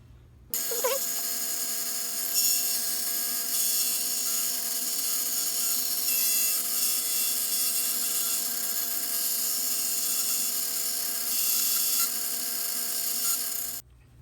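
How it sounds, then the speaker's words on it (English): A high-speed rotary tool with a cutting bit trims a Tamiya Mini 4WD plastic chassis, whining loud and steady for about thirteen seconds with a grinding, rasping edge and slight changes in pitch. "you're gonna drop your cutting bit to the destination point"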